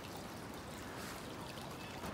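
A water source along the Appalachian Trail, a steady soft rush of flowing water heard close by with no voices, a brief continuous stretch.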